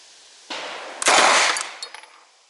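A Sterling police carbine fires. A loud, close blast, then a heavier report, rings out with a sharp crack and a ringing decay into quiet.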